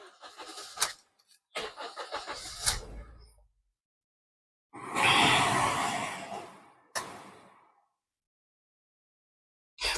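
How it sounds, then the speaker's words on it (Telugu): A used car at a second-hand car sale, with the engine being started: bursts of cranking and clatter, a longer roaring stretch, then sharp door-like knocks and stops, close and with no talk. "ఫ్రెండ్స్ ఇంజిన్ అయితే స్టార్ట్ చేశాను."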